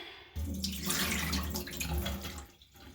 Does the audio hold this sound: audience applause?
no